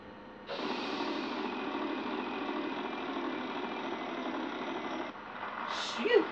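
Spinning wheel in a Wheel of Fortune plug-and-play TV video game: a steady electronic whirring drone holds for about five seconds, then cuts off and is followed by a brief rising tone.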